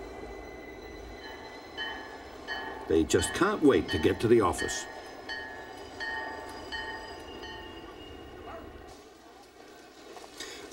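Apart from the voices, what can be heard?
train running through Toronto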